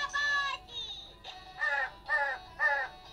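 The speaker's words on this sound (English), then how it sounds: "Alright, we need to get away from the crow." Crow cawing in a Doraemon video game, five harsh calls in an irregular rhythm, fairly loud and close, with faint game sound in the background.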